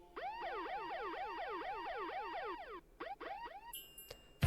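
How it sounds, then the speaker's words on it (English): A police siren used as a sound effect in a song rises and falls in a fast repeating wail, loud and up front, then breaks into a few short chirps before a brief electronic tone at the end. "Okay, so there's the police alarm."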